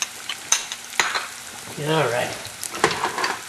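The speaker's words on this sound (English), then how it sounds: "We're going to saute that around in the olive oil" Freshly chopped shallot sautés in olive oil in a frying pan, crackling and sizzling up close with sharp clicks from stirring, while a voice speaks briefly.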